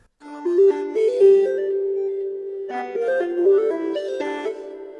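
Waves OVox vocoder plugin set to the Dreaming preset plays a synthetic, tonal melodic phrase in two stepped bursts of shifting notes, bright and fairly loud with a short gap between them.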